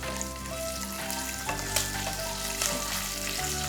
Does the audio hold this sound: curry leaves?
yes